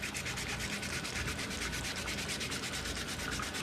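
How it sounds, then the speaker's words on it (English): Steady, continuous scrubbing of metal with a Scotch-Brite pad, pumice and baking soda, a close, even rubbing rasp with quick back-and-forth strokes throughout and no talking. "I'm going to clean this with a Scotch-Brite pad"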